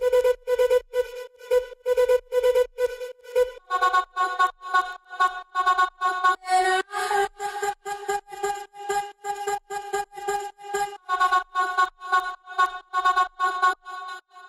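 Chopped vocal samples cut from the original singing, stuttering in short rhythmic bursts over a beat, with a pitched loop repeating and layering steadily, close and clean, with no talking.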